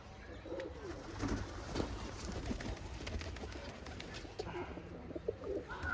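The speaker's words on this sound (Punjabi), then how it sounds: "ਕਬੂਤਰ ਬੈਠੇ ਨੇ ਇਕੱਠੇ" Pigeons coo softly and repeatedly at close range, layered over a steady background murmur with occasional rustles.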